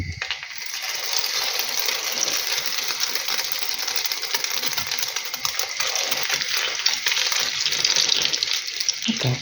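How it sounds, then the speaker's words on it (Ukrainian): Cheese-filled lavash rolls sizzle and crackle in hot oil in a pan, a steady close-up hiss with tiny popping bursts running continuously. "Хай осмажується з однієї сторони."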